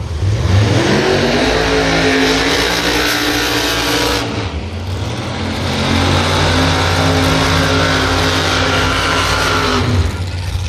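Pro Mod drag racing cars at the U.S. Nationals, among them a nitrous-powered Ford Mustang, roaring loud and close, with engine pitch rising and falling through repeated revs and a brief dip partway through.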